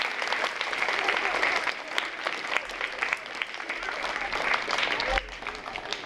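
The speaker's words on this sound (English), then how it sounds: "Round of applause." A school assembly audience of students claps in sustained applause at a Veteran's Day celebration, steady and fairly loud throughout, with faint voices mixed into the clapping.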